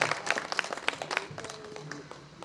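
An audience at a Hindi kavi sammelan poetry recital claps briefly, a scattered burst of handclaps that thins and fades within a couple of seconds.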